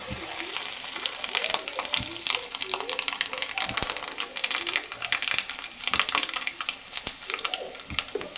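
Mustard seeds and garlic frying in hot oil, a steady dense sizzle with scattered crackles and pops, close and continuous throughout.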